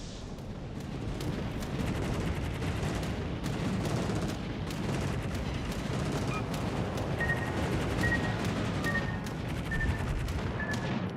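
Heavy naval gunfire from the battleship Alabama in World of Warships: Legends booms over a steady rumble of battle, with repeated thudding salvos and a few high tonal pings layered on top.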